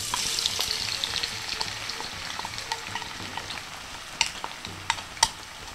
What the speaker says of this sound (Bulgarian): Олиото ври.